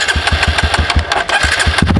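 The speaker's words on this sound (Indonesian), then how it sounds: "aku hidupin motor dulu ya" A motorcycle engine starting and running, with a rapid, rough, pulsing putter close by and loud throughout.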